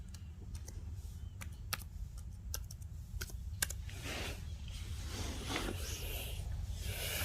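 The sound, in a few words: typing credentials on Dell Inspiron laptop keyboard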